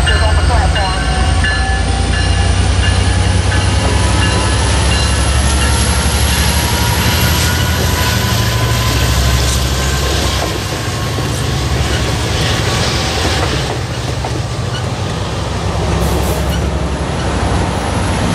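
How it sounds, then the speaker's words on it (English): Amtrak 75, the Piedmont local, pulls out and passes nearby with a loud, steady rumble of engine and rolling cars that lasts throughout. "Here they are pulling out Amtrak"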